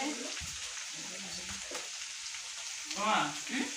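Puri and potatoes fry in hot oil in a home kitchen, giving a steady soft sizzle throughout with brief bubbling swells and faint stirring while people talk quietly nearby.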